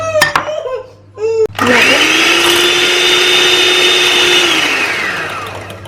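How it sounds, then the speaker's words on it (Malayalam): Electric mixer beating egg yolks for a Raffaello cake: a steady, close whirring whine holds for about four seconds, then winds down, after a brief stretch of clatter and movement. "ഇനി നമുക്ക് എഗ് യോക്ക് ബീറ്റ് ചെയ്തെടുക്കാം"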